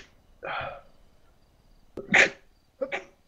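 Sneezes in a quiet room, three short bursts spaced across a few seconds, fairly faint and close, with no speech.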